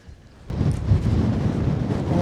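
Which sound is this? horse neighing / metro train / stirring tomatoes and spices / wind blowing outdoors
wind blowing outdoors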